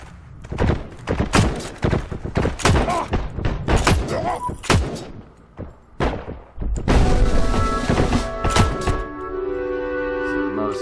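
Gunfight in the game Heroes and Generals: rapid, loud, close gunshots in irregular volleys, mixed with booming impacts and thuds, ending in a sustained rumbling stretch with ringing tones.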